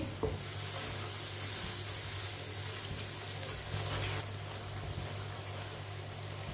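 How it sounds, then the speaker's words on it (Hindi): Spice masala in a pan with added water is stirred, giving soft sizzling and scraping that stays fairly quiet and steady over a faint background hum, with no voices. "पानी डाल के मैंने मिक्स कर लिया।"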